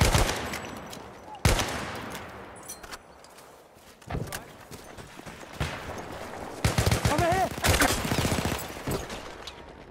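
Machine gun fire in the video game Battlefield 1 crackles in sharp bursts and single shots amid battle noise, with rapid rattling volleys building toward the end.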